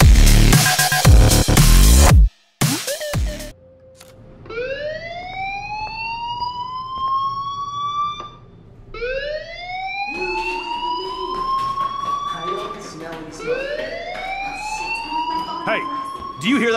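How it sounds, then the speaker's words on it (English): In the video game Life is Strange, a fire alarm wails in repeated rising electronic sweeps, loud and continuous, after a brief burst of other sound at the start. "do you hear that fire alarm?"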